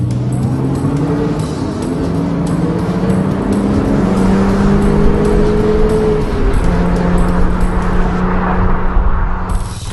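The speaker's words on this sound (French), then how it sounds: "la pièce maîtresse reste bien sûr le flat 6 placé juste derrière les passagers" Porsche Boxster Spyder's flat-six engine, mounted just behind the seats, pulls hard through rising revs with a loud, close rasp that climbs, shifts and climbs again across ten seconds, with no voices.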